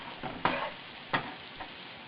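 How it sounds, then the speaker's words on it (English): A vegan gluten-free, soy-free meat-substitute sausage fries in coconut oil in a pan, a close steady sizzle broken by a few sharp stirring scrapes, with no voices. "start frying it up in your coconut oil"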